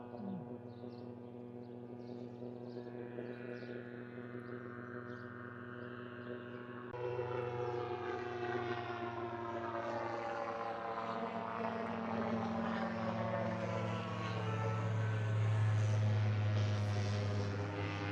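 A seaplane drones overhead above a lake, its propeller engine a steady, fairly close hum that swells louder toward the end as it passes.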